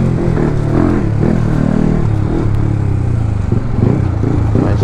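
Yamaha R15 motorcycle being ridden on the road, its engine giving a steady, loud, continuous drone throughout with no pauses.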